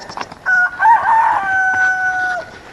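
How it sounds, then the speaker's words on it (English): A rooster on a homestead lets out a single long, drawn-out crow, close and loud, held for about two seconds before trailing off, with no one talking. "laying chickens with King Hey Hey and Bruin, the other rooster."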